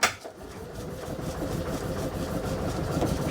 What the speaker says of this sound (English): Steady cranking.